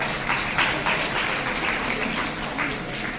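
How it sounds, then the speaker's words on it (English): Steady, continuous clapping from an audience at a college freshers meet at Haflong Government College, a dense wash of many hands at even loudness. "Please clap for her."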